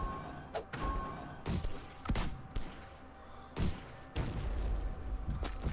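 Cannon fire in the video game Ironclad Tactics: several sharp, booming shots in quick irregular succession, each with a brief decaying rumble, fairly quiet overall.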